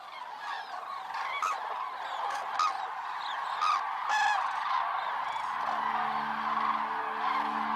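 A departing flock of common cranes over the Hungarian puszta calls continuously, many overlapping honking, trumpeting voices at moderate distance forming a steady dense chorus throughout.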